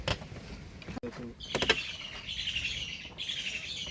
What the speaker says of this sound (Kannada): ಪಕ್ಷಿಗಳ ಸೌಂಡ್ ನೋಡು.